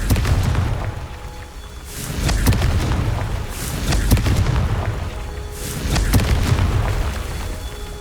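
Repeated booming blasts of the Confringo fire spell in the Hogwarts Legacy video game, three loud bursts spaced a couple of seconds apart over low rumbling.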